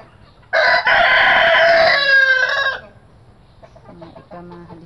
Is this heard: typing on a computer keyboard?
no